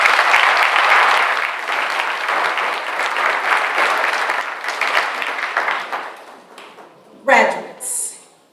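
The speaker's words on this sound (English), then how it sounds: "So would you applaud the adult education program one more time?" An audience at an adult education graduation ceremony claps in a long, steady burst that slowly thins and fades, ending in a few scattered claps and brief room noises.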